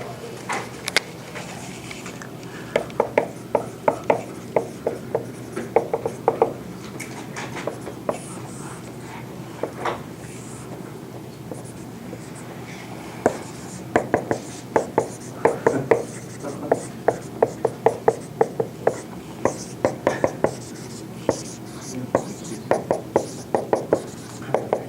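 A lecturer writes notes on a board in a physics lecture hall, giving a steady run of tapping, scratching strokes in short bursts, fairly close, with brief pauses between them.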